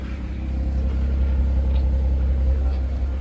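A car engine with an aftermarket body kit, 37,000 miles on it, gives a deep, steady, loud rumble close by, holding an even level throughout without a sharp climb in pitch.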